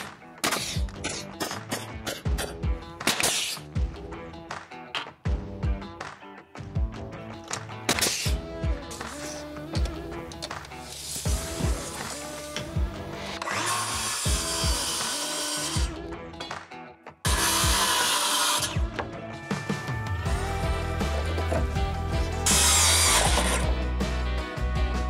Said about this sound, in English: We'll face nail this all the way down